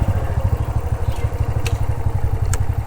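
Motorcycle engine idling at a parking spot beside a canal rest house, a close, loud, steady chugging putter with light clattering ticks on top.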